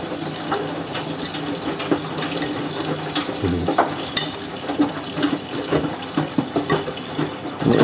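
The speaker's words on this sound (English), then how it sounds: "It normally does a low level final rinse" A Miele W562 washing machine runs its low-level final rinse on a Minimum Iron 30°C programme with Short and Water Plus. Water sloshes and trickles while the drum clicks and thumps rhythmically, close by and without any talk.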